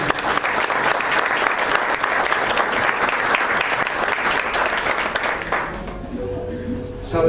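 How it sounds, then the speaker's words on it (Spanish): A church congregation gives loud, sustained applause, dense and continuous, fading slightly toward the end as a low hum and musical tones emerge. "Ese aplauso fuerte a Jesús"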